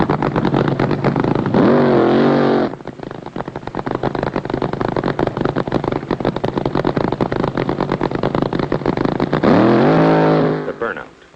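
A drag racing car's roaring engine blasts continuously during a burnout with screeching tire noise, rising into high revs at the start and end, very loud and close.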